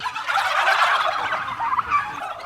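Turkeys on a turkey farm gobble together in a loud, dense, close chorus of overlapping calls that carries on without a break and with no voices.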